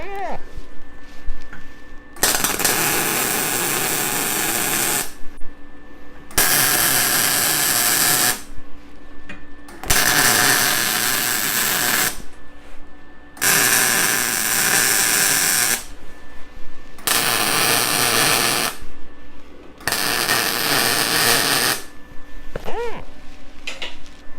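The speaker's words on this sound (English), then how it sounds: "And I'm going to go ahead and I'm going to weld the back." MIG welding on the back of horseshoes joined into a metal moose head, a loud crackling buzz that runs in repeated bursts of about two to four seconds, broken by short quiet pauses.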